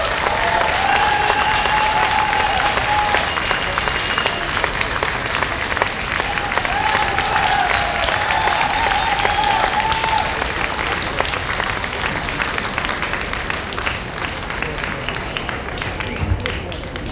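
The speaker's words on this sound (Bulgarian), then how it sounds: "Благодарим, че бяхте с толкова топли и горещи аплодисменти към всички участници." An audience applauds at a folk music and dance jubilee concert in Berlin. Loud, dense, sustained clapping continues for the whole stretch, with voices calling out from the crowd and a few whistle-like tones above the applause.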